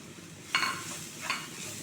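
Fried chicken pieces tossed into a pan of sautéed onions, ginger and chilies: a soft background sizzle broken by two short scraping stir strokes, heard close with no speech.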